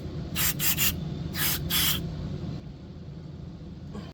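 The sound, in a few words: spraying cleaner on car parts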